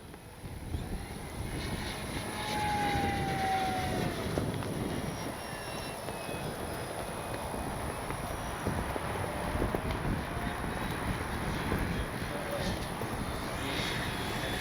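An FMS P-51 Mustang Miss America radio-controlled model plane in flight, a continuous buzzing engine drone at part throttle, steady and moderately distant, with outdoor wind.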